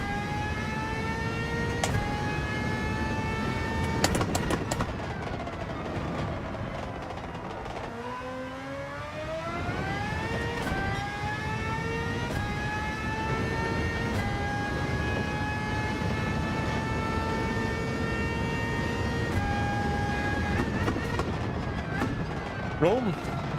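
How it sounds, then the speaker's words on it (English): A race car engine in Gran Turismo 7 revs and climbs through the gears, with long rising whines that drop at each shift, loud and steady, while someone talks over it. "listening to this engine is really important to like understand where the peak power is"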